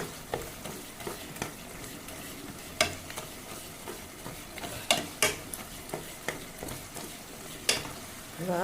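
Cooked tomatoes are mashed in a pan, with repeated soft scraping and sharp clicking taps of a utensil against the metal over a low sizzle, fairly close and quiet.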